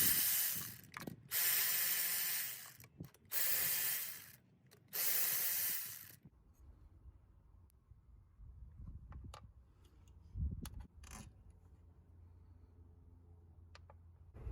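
A ratchet removes 12 mm nuts and bolts from the throttle body of a 1991–94 Toyota Tercel. Three loud bursts of rapid ratcheting clicks come up close, followed by quieter scattered ticks and clunks against low background hum.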